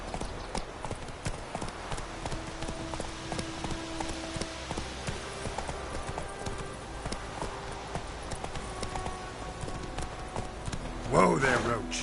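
Geralt's horse Roach galloping in The Witcher, rapid rhythmic hoofbeats close by, running steadily for the whole stretch, with people talking over them near the end.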